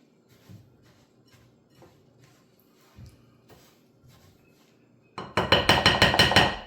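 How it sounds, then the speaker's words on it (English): A thick no-bake protein ball mixture is stirred in a bowl: faint scattered clicks at first, then a loud, rapid run of rhythmic scraping and clattering strokes close by. "let's just keep mixing and stirring"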